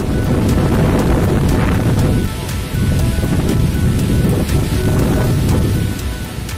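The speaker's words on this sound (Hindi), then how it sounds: "और मूसलाधार वर्षा शुरू कर दी।" Torrential rain pours steadily and loudly while thunder rumbles through the downpour, with wind buffeting the microphone throughout.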